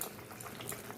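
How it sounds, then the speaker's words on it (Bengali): Fish curry gravy bubbles in a pan, a soft, steady simmer of small pops and gurgles, faint and close, with no voices over it. "ঝোলটা ফুটে উঠেছে"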